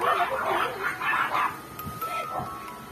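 Dogs at home barking and yipping in a few quick close bursts, with whiny higher tones mixed in, then trailing off into softer sounds.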